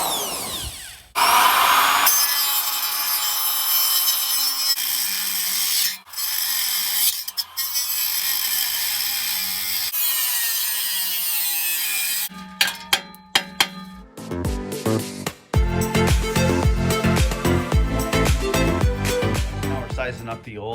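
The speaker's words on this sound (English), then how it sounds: "Cutting off these flange bolts because we want to try to keep the integrity of that front flange" Power tool cutting through rusted exhaust flange bolts under a Toyota Tacoma or 4Runner, a loud sustained grinding whine with short pauses, then sharper clanking, ratcheting and metallic knocks near the end.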